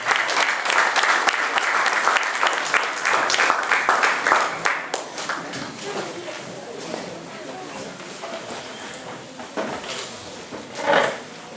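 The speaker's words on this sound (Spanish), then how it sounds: "Recibamos por un aplauso" Audience applause welcoming a speaker at an evening church anniversary conference, a dense burst of clapping that gradually thins and fades, with a brief swell near the end and some background voices.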